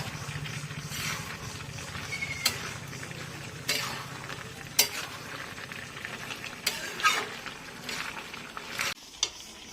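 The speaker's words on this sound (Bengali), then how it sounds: "আমরা চিংড়ি মাছটা দিয়ে দিচ্ছি, দিয়ে নাড়াচাড়া দিয়ে নামিয়ে নেব।" Shrimp tossed into a hot frying pan for jackfruit-shrimp curry, a steady loud sizzle running throughout, broken by repeated scrapes and knocks of a spoon stirring against the pan, with no talking.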